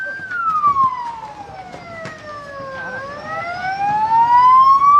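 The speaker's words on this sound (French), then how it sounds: "les policiers, ils ont mis un petit coup de sirène" A loud Spanish police car siren wails nearby in a short burst, its pitch sliding down then sweeping back up, with traffic rumble beneath.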